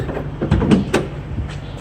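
A side door on a 2017 Ford Transit T-150 mid-roof cargo van is opened: a close mechanical clunk of the latch followed by a short scraping slide, loud over steady outdoor background noise.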